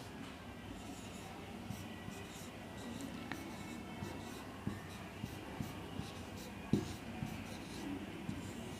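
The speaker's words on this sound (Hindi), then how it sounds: "हिंदी में मैं लिख दे रहा हूँ।" Marker or chalk writing on a classroom board during a chemistry lesson, soft scratchy strokes with faint taps, quiet and close, under low room noise.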